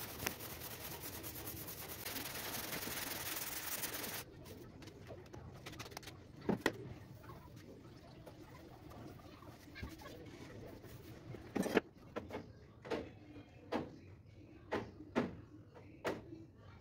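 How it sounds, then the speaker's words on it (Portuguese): An 80-grit sandpaper block scrapes by hand across the sliding door of a VW Kombi in a garage, a dense rasping at first that gives way to sparse, separate scuffs and knocks, fairly quiet and close. "Aí eu tô usando aquele taco que eu fiz de 45 centímetros com a lixa nova que comprei"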